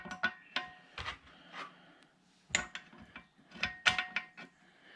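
A meat grinder is put back together with its small plate and blade, giving sharp metallic clicks, clanks and scraping taps in irregular bursts, close and moderately loud, with a short quiet gap in the middle.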